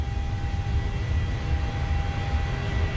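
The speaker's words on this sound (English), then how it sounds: "Gary, that's what you normally take off at in the 737 at this weight and everything." A simulated Boeing 737 rolls down the runway for takeoff in Microsoft Flight Simulator 2020, producing a steady, loud engine roar with a low rumble and a faint tonal whine, constant throughout with no voices.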